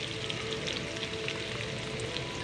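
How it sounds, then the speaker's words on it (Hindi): Onions sizzle in hot oil in a pan, giving a soft, steady, even hiss with no talking. "अब आधा कप ऑयल डालेंगे और ऑयल को गरम कर लेंगे। तो जी ऑयल हमारा गरम हो चुका है। अब प्याज डालेंगे"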